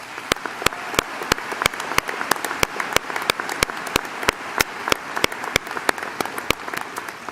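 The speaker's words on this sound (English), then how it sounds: "Let's give them a round of applause." Applause at a university spring commencement ceremony, with crisp individual claps standing out sharply over a thinner crowd clatter, steady and fairly close throughout.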